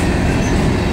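Freight train rolling past on the track, a loud, close, continuous roar of wheels and rail noise filling the whole moment.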